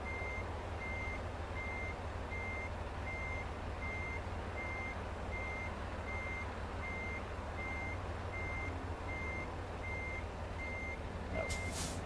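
A Freightliner Cascadia in American Truck Simulator reversing, its backup beeper pulsing in a steady even rhythm over a loud continuous diesel engine drone, with a brief hiss near the end.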